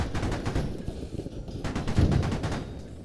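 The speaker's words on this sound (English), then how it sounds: "He's shooting, he's right in front of us. Shoot the turret, shoot the turret" Rapid bursts of autocannon fire from a BMP-2 infantry fighting vehicle in the military shooter game Squad, loud and continuous with sharp repeated reports over a rumbling background.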